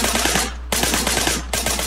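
Rapid automatic gunfire in Sleeping Dogs, a dense burst of loud shots that breaks off for a moment and then resumes, with no talking.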